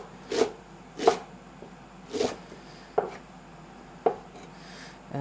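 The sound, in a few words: knife chopping fresh parsley on a board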